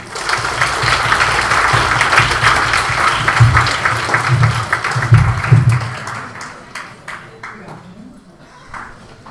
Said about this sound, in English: Please give a round of applause for Marcella Krijf.